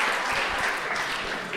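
Brief burst of audience applause at a stand-up comedy show, a room of hands clapping at once and fading slightly, with no talk over it.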